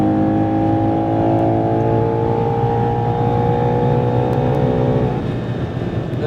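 A Ferrari Purosangue SUV engine accelerates steadily on the Autobahn, its rising harmonic whine climbing in pitch for several seconds before easing off near the end, loud and close.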